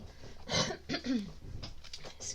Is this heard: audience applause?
no